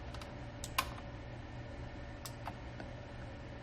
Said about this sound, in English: hit B on the keyboard.